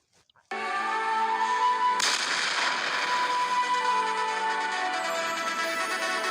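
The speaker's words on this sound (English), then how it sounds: "choose explosion." Explosion sound effect added during video editing, a sudden loud blast that bursts in and then sustains as a dense, roaring rumble fading slowly.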